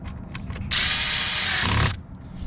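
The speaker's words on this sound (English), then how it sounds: "I use a screwdriver. Tighten it up so that it pinches down on that so it doesn't move." A screwdriver tightens the terminal screw on a wire in a 240-volt spa power connection: a single short whirring burst of about a second, close and fairly loud, between quieter handling noises.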